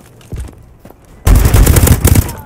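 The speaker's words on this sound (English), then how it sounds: "Why is this guy still shooting?" Rapid gunfire from Call of Duty Advanced Warfare gameplay: a couple of faint shots at first, then a loud, sustained burst of automatic fire with no talk over it.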